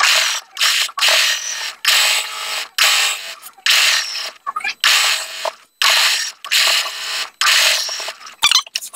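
Sewing machine stitching the hem of a knit top, running in loud, close bursts of about a second each, separated by short pauses, with a steady mechanical whir and clatter and no talk.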